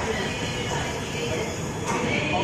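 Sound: New Delhi Rajendra Nagar Patna Tejas Rajdhani Express train being placed

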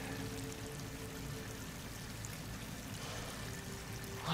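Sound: water pouring in, from video game Horizon Forbidden West

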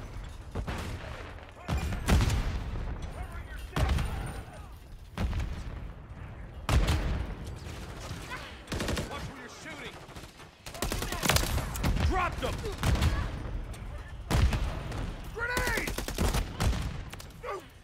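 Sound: gunfire in Call of Duty Modern Warfare 3 video game

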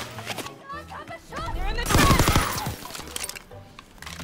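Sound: shotguns firing in a video game

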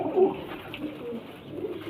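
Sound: pigeon cooing

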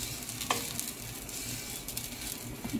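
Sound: onions frying in a pan for chicken dish

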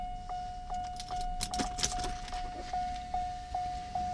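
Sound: keys jangling while turning on a Mercedes 600SL ignition

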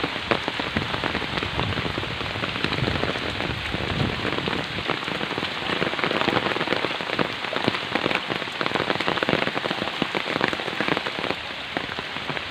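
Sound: heavy rain

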